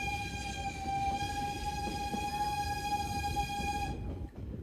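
Lokalbahn steam locomotive 751118 passing with a loud, sustained whistle that holds steady for about four seconds over rumbling rail noise, then cuts off abruptly.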